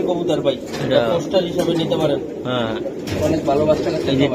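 Giribaj pigeons at a pigeon seller's coo in soft, repeated throaty calls while people talk nearby.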